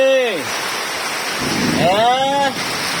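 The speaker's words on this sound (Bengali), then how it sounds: "বৃষ্টি নামতেছে রে।" Steady rain hisses throughout while a couple of voices call out over it.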